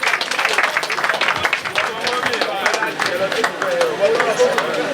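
A crowd at a university inter-hall sports opening ceremony claps continuously, loud and close, with some voices mixed in the background.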